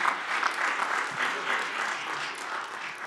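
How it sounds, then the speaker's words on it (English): Steady applause from a crowd, sustained clapping throughout at a moderate level with no voices standing out. "Once again, applause for this moment."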